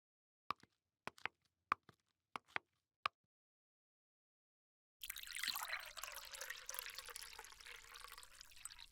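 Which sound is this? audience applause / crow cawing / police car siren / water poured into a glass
water poured into a glass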